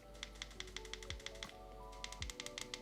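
Repeated small plastic clicks from a volume rocker pressed through an official Google Pixel 8a case, coming in quick close-up bursts with brief pauses and no talking.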